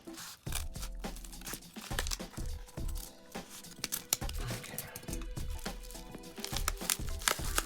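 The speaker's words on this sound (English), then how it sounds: "So I'm gonna cut it at the tippy top here." Scissors cut open a paper mailer at close range, with crisp snips, crinkling and rustling of paper in irregular bursts throughout.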